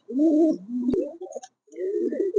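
A pair of ghee-coloured chandan pigeons coos close by in low, rolling phrases with short pauses and a sharp click between calls.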